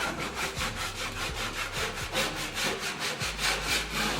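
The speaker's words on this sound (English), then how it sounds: "You want to scrape this right when it's setting. It's easy to scrape." Scraping a flat of setting joint compound with a scraper, a steady series of close rasping strokes in a regular back-and-forth rhythm, with no talk.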